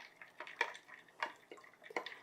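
A spoon stirs bouillon into hot water in a cup or bowl, giving soft repeated clinks and light liquid swishes at close range, quiet and without talk.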